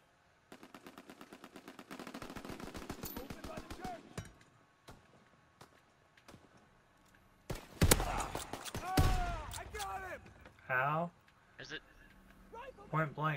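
Call of Duty: WWII gunfire: a rapid burst of automatic fire that runs for a few seconds, then single sharp shots and a loud close blast, with someone talking excitedly between and over the shooting.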